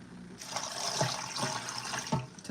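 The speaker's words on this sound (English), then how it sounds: "Let's add some of this water" Water splashes and gurgles as it is poured into the bottom of a turkey roasting pan, a steady close pour for a couple of seconds with a few louder sloshes.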